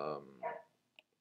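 A dog barks once or twice at a distance, faint and short, followed by a small yip in a quiet room.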